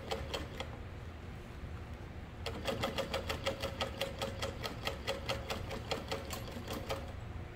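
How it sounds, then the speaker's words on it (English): A sewing machine top stitches a tote bag an eighth of an inch from the edge, with a brief rapid burst, a pause, then a steady fast mechanical chatter close by. "We're going to top stitch an eighth of an inch."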